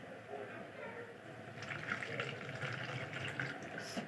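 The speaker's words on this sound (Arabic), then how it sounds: "احط يعني نص كوبايه ميه، نص كوبايه ميه" Water is poured from a cup into a baking dish of marinated chicken in a home kitchen, making a soft, steady splash and trickle that grows stronger midway, with faint background noise.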